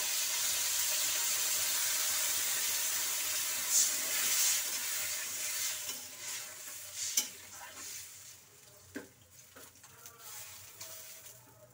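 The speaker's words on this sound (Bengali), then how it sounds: "এখন কাঁচা কুমড়ো ঝোল এখন ফুটে উঠেছে" Raw pumpkin curry for a koi fish dish bubbling in a pot, a steady hissing simmer that fades gradually, with scattered clinks and stirring knocks close by and no voices.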